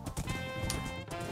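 A Minecraft horse clip-clops in short quick hoofbeats with a faint whinny, quiet and brief, no talk.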